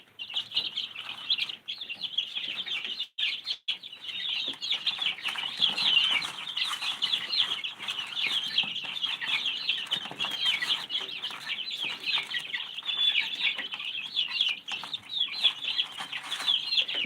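Chickens cluck and chirp almost without pause in a homestead brooder among baby chicks, a busy, close chorus of high peeping calls with a few soft rustles and wing flaps beneath.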